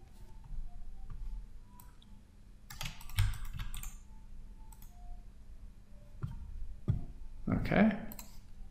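Computer keyboard keys clatter in quick irregular bursts of typing and single presses, close and fairly crisp, with pauses between runs and a faint background hum.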